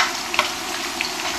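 Potato fries frying in hot oil for crispy finger chips, a dense steady sizzle close up with a couple of light stirring clicks, no talking.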